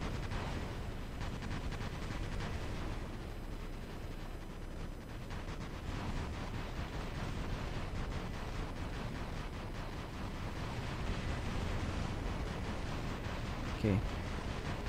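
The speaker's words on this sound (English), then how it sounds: "Turret is firing." Continuous heavy gunfire and rumbling battle noise from a turret firing in the mech combat game War Robots, a dense, steady wash of shots that barely lets up, with speech over it.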